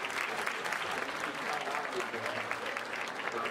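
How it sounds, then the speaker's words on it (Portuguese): Dense applause from a hypnosis show audience, continuous and fairly loud throughout, with many hands clapping at once. "uma salva de palmas pro nosso"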